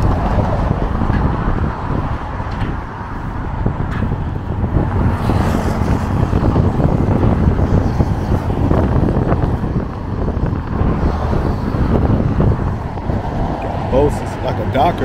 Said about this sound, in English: It's windy out here, y'all, so if it's the wind sounds too crazy, my bad.